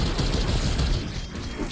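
Rapid, dense gunshots from a DMR-14 rifle in Cold War Zombies, loud and continuous through a short burst with a booming low end.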